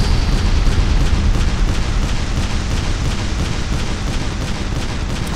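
Battlecruiser ship turrets firing in the game Battlecruisers, a dense, loud barrage of booming shots layered into a continuous rumbling roar with no pauses.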